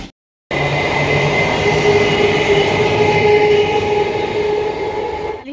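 A train rumbles loudly and continuously through a city railway station in Bihar, its wheels grinding and squealing faintly on the rails after a brief silence at the start.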